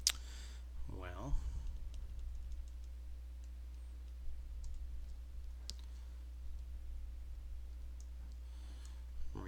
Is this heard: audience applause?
no